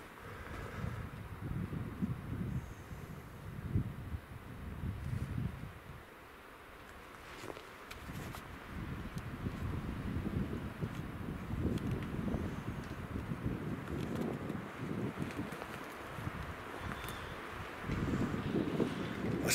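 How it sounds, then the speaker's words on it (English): Strong wind gusting through a forest in wilderness, a broad roaring rush that swells and eases in waves, loud and close with no one speaking. "it's the windiest forest I've ever been in. It's so windy."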